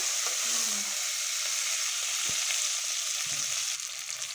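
Onion, garlic and dried red chili sauté in a hot pan, giving a steady bright sizzle throughout with a few soft stirring scrapes, close and alone without talk.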